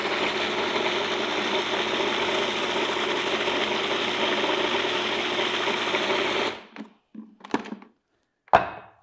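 A food processor blending macadamia nut cheese runs with a steady loud whirring motor for about six seconds, then stops abruptly, followed by a few soft knocks and handling thumps.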